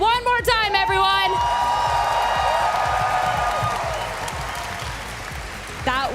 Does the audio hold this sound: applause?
yes